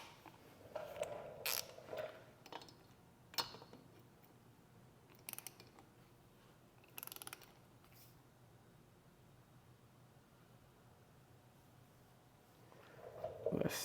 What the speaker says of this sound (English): take your 5/8 and tighten it down to 18 foot-pounds.